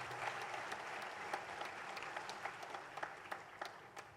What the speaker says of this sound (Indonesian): Boleh kita berikan tepuk tangan dulu untuk Tuhan.